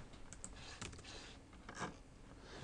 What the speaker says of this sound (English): We can type it out right.